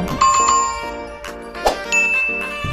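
Several bright bell dings ring out in quick succession, clear, close and resonant, with short metallic clicks between them.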